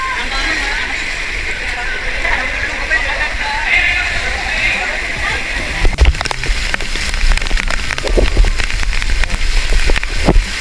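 Floodwater sloshes and splashes through a Quezon City barangay street during Typhoon Carina, a constant wet wash with rain-like hiss, growing choppier with loud splashes in the second half while people talk nearby.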